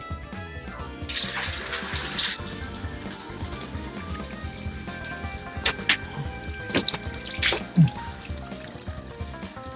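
Purple degreaser liquid pours into a bucket, a continuous splashing trickle with a few sharper drips and knocks along the way, close by and moderately loud.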